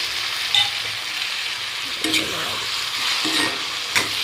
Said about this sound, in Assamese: গোটেইখিনি ধুনীয়াকৈ লৰাই দিওঁ আৰু